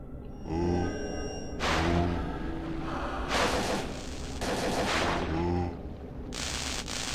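Energy shot attacks fire in Parasite Eve 2, heard as a series of loud, bright bursts with ringing tonal edges, repeating roughly every one to two seconds over a steady background hum.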